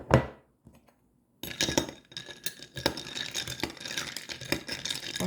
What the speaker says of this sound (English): So then you add your ice.